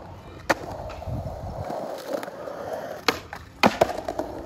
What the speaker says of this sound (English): you want to like do a little tail smack on the coping because it's louder